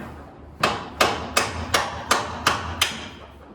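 Seven sharp hammer taps strike at a steady pace, close and loud, while a Ford Coyote engine is being worked into place in a race track bar.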